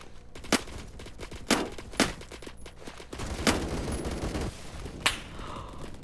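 Gunfire in the Roblox shooter Phantom Forces: sharp, loud single shots at irregular intervals, around five distinct cracks, over a steady rumble of distant game battle noise and ambient sound.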